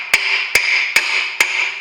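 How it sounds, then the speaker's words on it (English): Hammer gently tapping a car's rear wheel bearing into place, four even, evenly spaced metallic taps with ringing decay, close and fairly loud, no talking. "Nice even taps all the way around, I'm not doing it hard. Just the weight of the hammer really."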